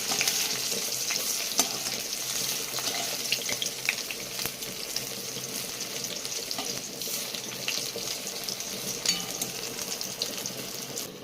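Prawn fritters made with onion, coriander leaves, green chilli, rice flour and gram flour batter fry in hot oil, giving a dense, even, close sizzle with frequent tiny pops throughout, no one speaking.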